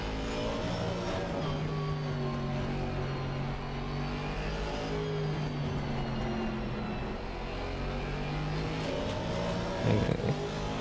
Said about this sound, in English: This Porsche and McLaren having a mighty scrap.